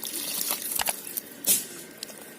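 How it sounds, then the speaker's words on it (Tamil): Water is poured onto the soil around a jasmine plant, giving soft close drips and trickles with one brief louder splash midway. "இந்த மாதிரி நம்ம கிளறினதுக்கப்புறம் இந்த தண்ணி வந்து நம்ம ஊற்றிக்கலாம்."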